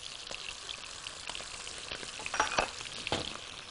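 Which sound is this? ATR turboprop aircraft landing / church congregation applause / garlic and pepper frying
garlic and pepper frying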